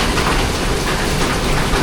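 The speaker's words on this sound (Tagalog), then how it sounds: "Grabing grabing ulan sa labas." Heavy rain pours down outside in a dense, steady roar that fills the whole moment without a break.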